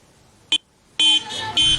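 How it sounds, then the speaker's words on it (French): Car horns in a wedding convoy sound one short honk, then a pause and a longer blare that splits into two sustained blasts, loud and close. "Klaxons, youyous et cris de joie."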